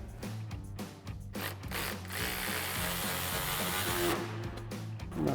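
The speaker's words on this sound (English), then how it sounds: "grab your 10mm socket and your ratchet" A ratchet on a 10mm socket clicks in quick repeated bursts with short pauses, tightening a bumper screw on a 2015-2023 Dodge Charger, close and fairly quiet.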